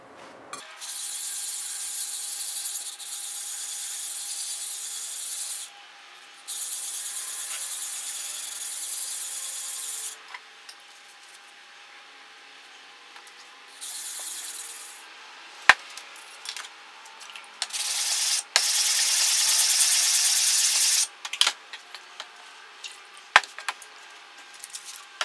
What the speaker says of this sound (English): I can then run through all of the grits and everything and get this thing polished up and really nice and sharp.